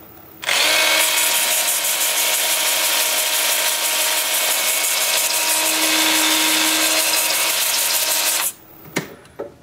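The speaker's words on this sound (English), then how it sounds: "now with the lathe spinning in reverse at 350 still." A wood lathe spinning in reverse at 350 rpm on a pedestal bowl makes a steady, loud whirring drone for about eight seconds, then cuts off, followed by a couple of sharp clicks.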